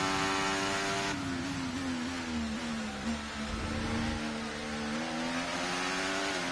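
Aston Martin Formula 1 car in the F1 24 video game, a loud continuous high-revving engine whine that shifts gear partway and wavers in pitch while pushing to overtake, with no talk.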